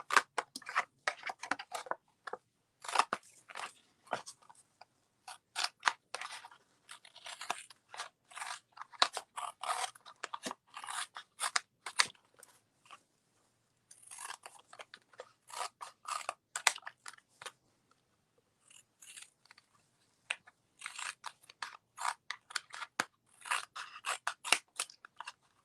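Scissors snip through a Tetra Pak carton being trimmed into a card-sized intaglio printing plate, a long series of crisp close-up cuts in quick bursts with brief pauses between them.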